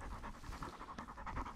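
A dog covered in burrs from a field pants steadily and rapidly close by, a quick rhythmic huffing that carries through the whole stretch with no talk over it.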